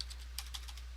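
Several quick taps on a computer keyboard, close and fairly faint, with a low steady hum running underneath.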